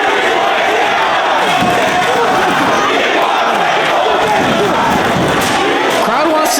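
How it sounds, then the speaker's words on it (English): A pro wrestling arena crowd at a 2008 Ring of Honor event roars in a dense, continuous wall of noise that could be a chant for tables, loud and sustained throughout with no pauses. "Crowd wants to see tables."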